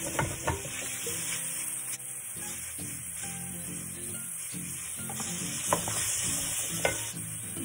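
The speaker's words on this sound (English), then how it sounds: "brown your meat." Pork sizzles steadily in a hot pan while a utensil stirs and scrapes through it, with occasional clacks against the pan, close up and without talking.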